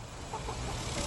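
A broody hen gives short, low clucks close by in a hot coop, steady murmuring sounds over a constant background hiss with no other sounds.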